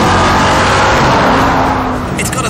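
A Ford Mustang muscle car engine roars loud and close under hard acceleration, a dense continuous rumble that eases slightly near the end.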